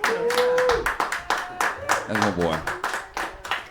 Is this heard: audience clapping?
yes